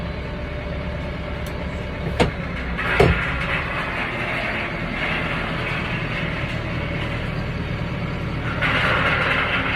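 A tractor drives across a farm while cubes are dropped, a loud steady engine drone close by, with a couple of brief clunks partway through and a slight rise in roar near the end.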